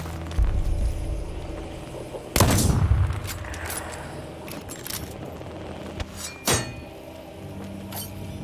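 Nail gun fire from the video game Deathloop comes as a few sharp, loud bursts spaced seconds apart, with clinks and game sounds in between.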